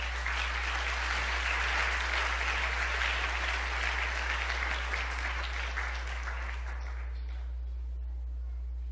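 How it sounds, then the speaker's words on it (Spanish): Church congregation applauding for the Lord, a thick continuous burst of many hands clapping over a low steady hum, strong at first and tapering off toward the end. "Denle un aplauso al Señor."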